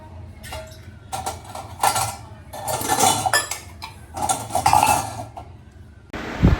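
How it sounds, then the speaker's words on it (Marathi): Dishes being washed: pots, plates and cutlery clatter and clink in irregular bursts with running scrubbing, ending in a louder knock. "चला फटाफट भांडी घासून घेते"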